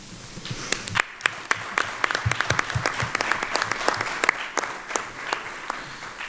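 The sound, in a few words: audience applause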